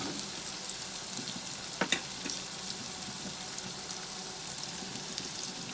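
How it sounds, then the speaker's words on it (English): Onion and green chillies saute over a medium flame, a faint, steady frying hiss with a couple of brief clinks midway. "we'll saute this over the medium flame"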